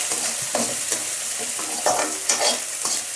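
A cut green chili fries in hot oil in a pan, a bright close sizzle broken by repeated scraping stirs every half second or so, loud and continuous with no talk.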